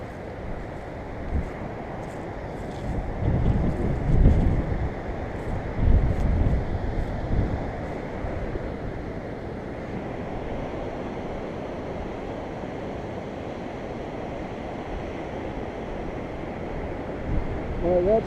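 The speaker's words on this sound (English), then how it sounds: "And look at those waves." Ocean waves wash onto a beach along a back coastal road, a steady broad rumble of surf with wind buffeting the microphone, swelling louder in the first few seconds before settling into a constant roar.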